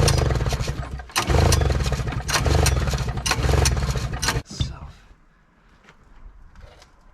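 A vintage Arctic Cat Panther 440 snowmobile engine from around 1974–75 is pull-started, giving loud, close bursts of rough cranking and sputtering cut by short pauses, then dropping to faint clatter and ticks.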